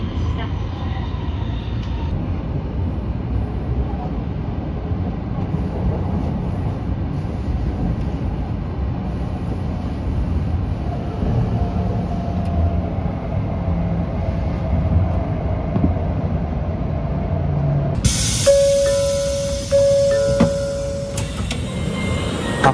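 An N700 series Large A Shinkansen, running as Nozomi 64, at the Tokyo terminus: a low, steady rumble of train and station noise, with voices in the background and a sustained tonal beep with electronic chirps near the end.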